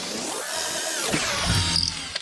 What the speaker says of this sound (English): First he's going to drill a guide hole.